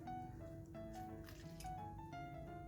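Fresh lemon squeezed by hand for juice gives a soft, wet squish over a couple of seconds, partly masked by steady background music.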